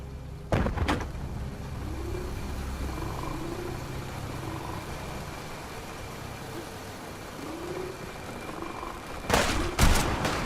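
Gunfire volley from a fight in the fog in Fallout 4's Far Harbor expansion: a couple of sharp shots near the start, a steady ambient rumble in between, then a cluster of loud cracking shots near the end.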